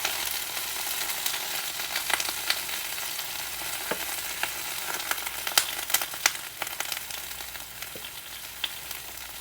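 Cabbage frying in a hot pan gives a continuous crackling sizzle, scattered with sharper pops and spatters throughout, steady and fairly close with no talking.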